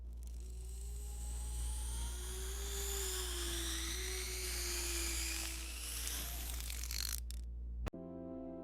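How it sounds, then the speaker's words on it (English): An endodontic file preparing a tooth's root canal, rendered as a steady high-pitched dental-drill whine over a low hum that runs for several seconds and then cuts off abruptly with a brief click. "The endodontic file gently prepares the root canal"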